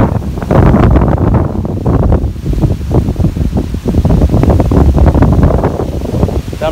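Strong wind blowing on a hill at Peruvanmala near Thrissur, a loud, continuous roar buffeting the microphone with gusty surges throughout.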